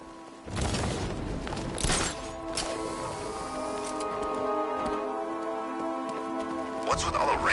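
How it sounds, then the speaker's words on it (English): Steady rain patters across the scene in the video game Batman: Arkham Knight, with a few sharp clinks and taps, continuous and fairly close, with no voices. "What's with all the rain?"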